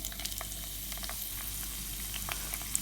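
Curry leaves, garlic and ginger sizzling in hot oil for a fish curry, a dense, close hiss with small crackles and pops throughout the brief moment.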